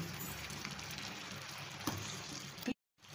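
Steady bubbling hiss of liquid boiling in a pot, continuous and close, cutting out abruptly near the end.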